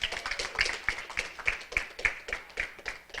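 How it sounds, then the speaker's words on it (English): Scattered applause for the host at a youth basketball national championships media day, a modest crowd clapping unevenly at moderate distance. "So y'all give the host a round of applause."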